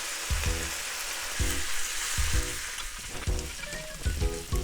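Garlic and about 50 grams of butter sizzle steadily in a frying pan for a Japanese vegan konnyaku steak, a close, continuous hiss broken by repeated stirring scrapes, with no talking.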